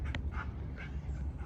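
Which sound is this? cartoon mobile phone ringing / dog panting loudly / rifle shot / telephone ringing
dog panting loudly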